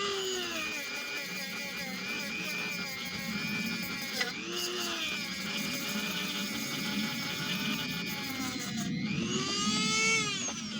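A power sander with a sanding pad drones continuously on a car hood, with a whirring, wavering pitch that dips and rises as the tool is pressed and moved across the surface.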